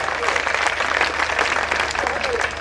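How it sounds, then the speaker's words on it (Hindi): Audience at a Hindi poetry recital applauding after a reading, a short burst of steady crowd clapping with talk mixed in. "मैं चाहूंगा एक बार पूरे मन से आप लोग तालियां बजा दें"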